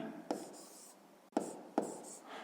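A pen or pencil writes out a geometry solution by hand on paper. There are three short taps and soft scratches over a quiet room, with no speech.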